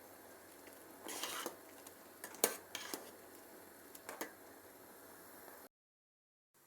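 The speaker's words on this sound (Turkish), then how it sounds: "Böyle ara ara karıştıralım." Red pepper jam is stirred in a pot, giving a faint bubbling sizzle with a few soft scrapes and clinks of the spoon, then cutting to silence near the end.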